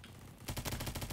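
A player's gun firing in a shooter video game, a fast, loud automatic burst of evenly spaced shots that starts abruptly after a quiet moment.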